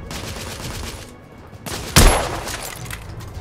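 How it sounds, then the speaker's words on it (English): Gunfire crackles in a video game battle, with rapid bursts of shots and a loud sharp blast about two seconds in, followed by a fading rumble, without speech. "Who's shooting at me"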